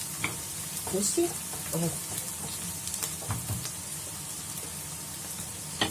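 Sliced onion frying in a pan on the stove for an Egyptian meat-filled pastry, soft sizzling with intermittent scraping stirs, while someone speaks briefly over it.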